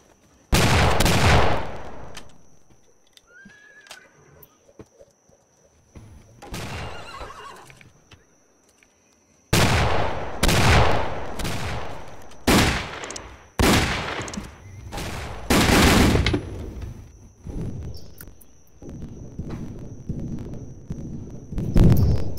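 Gunfire in the Roblox Wild West game rings out as several loud, booming shots with long decaying tails, spaced irregularly and then coming in a quicker cluster over a steady faint background tone.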